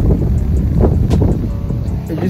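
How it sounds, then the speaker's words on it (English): Strong wind outdoors in California buffets the microphone with heavy low rumbling gusts, loud and close, with faint higher whistling streaks above. "it's really windy."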